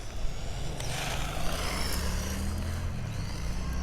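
A Kyosho Lazer ZX-5 radio-controlled buggy drives past, its electric motor giving a steady whine over a broad rushing hiss of tyres on the ground, fairly faint and distant with no one talking.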